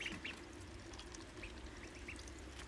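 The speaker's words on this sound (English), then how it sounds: "my wife's just topping up the water" Faint water trickling as a drinker is topped up in a DIY brooder for ducklings about a week old, with soft peeping and quacking from the ducklings mixed in at low level.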